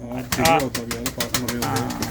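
Pigeons cooing in a loft of top-class show pigeons, repeated soft throaty coos close by with someone talking over them.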